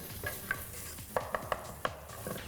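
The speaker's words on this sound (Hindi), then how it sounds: "now time for the ginger and the onion to go in" Ginger and onion drop into a small amount of hot oil in a pan, giving a soft ongoing sizzle with several sharp clatters of stirring against the pan, close up and with no talking.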